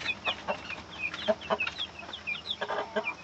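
A hen clucks steadily in quick, soft bursts close by, with a few higher chirps from chicks scattered between the clucks.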